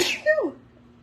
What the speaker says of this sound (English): Ooh, I might have to sneeze.